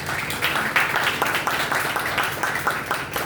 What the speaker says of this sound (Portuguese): a palestra da professora doutora Maura Pena, a quem eu peço que vocês deem uma salva de palmas.